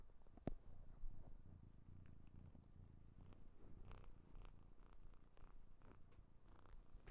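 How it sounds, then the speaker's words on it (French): A cat purrs close up in a steady, low rumbling drone that continues throughout, soft and unbroken, with no talking. "Putain, je l'entends ronronner dans les écouteurs."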